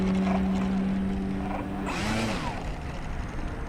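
E-flite Twin Otter twin-engine RC model airplane making a low pass over the runway at a model aviation day: a steady electric motor whine that shifts in pitch as it sweeps past, heard from a distance under outdoor background noise.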